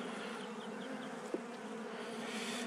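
A honey bee swarm buzzing at the hive makes a steady, unbroken drone of many wings. It is fairly soft and even throughout, with one brief tap partway through and no voices.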